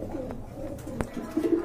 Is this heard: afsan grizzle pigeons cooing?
yes